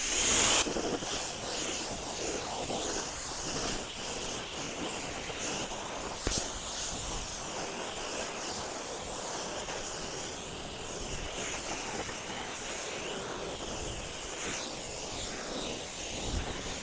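A water hose rinses a car with a fresh ceramic coating during its first wash, giving a steady, broadband spray hiss that runs unbroken and fairly loud from start to finish.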